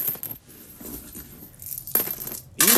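A pile of pennies dropped and clinking together in a few quick metallic bursts, close and fairly quiet with brief pauses between clatters.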